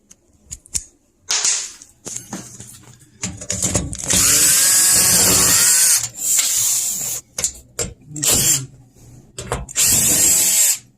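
A power drill backs screws out of the grill cover on an HVAC unit during a Belimo valve change-out. Several short bursts and one long rising whine sound close by, with a few rattling taps between them.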